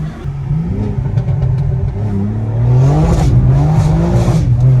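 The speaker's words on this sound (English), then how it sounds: "I'm gonna do a test roll because it's spinning." BMW versus Porsche rolling acceleration run with wheels spinning: a loud, close engine drone whose pitch rises steadily, dips with a gear change, then climbs again.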